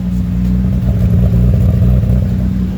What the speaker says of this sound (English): You can hear the idle, you can hear the cam